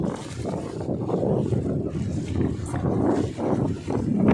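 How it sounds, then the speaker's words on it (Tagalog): Strong wind buffets a fishing boat out at sea in fairly rough waves, a continuous loud roaring gust noise with steady rumbling throughout, no talking. "Ayan na, medyo mahangin."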